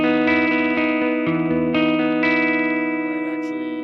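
An electric guitar plays through a Taiwam RAT distortion pedal, its loud, thick, sustained chords changing every half second or so and ringing out at the end.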